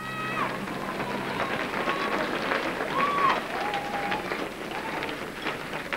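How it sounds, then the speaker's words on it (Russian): Audience applause for dancers at a Latin American dance World Cup semifinal in the Kremlin, 2001: sustained, dense crowd clapping filling the hall, with a faint voice and music traces underneath. "ваши аплодисменты участникам этого захода"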